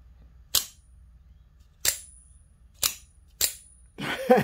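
A cheap Chinese OTF double-action automatic comb snaps open and shut four times, sharp close metallic clacks spaced about a second apart in a quiet room, followed by a brief rustle of handling.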